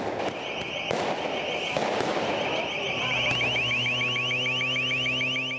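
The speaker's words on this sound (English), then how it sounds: "protesters use homemade rockets to try and seize Bangkok's government house" Homemade rockets fired by protesters at night near Bangkok's government house give sharp bangs and whooshes amid a crowd roar, with a repeating car alarm wailing through the second half.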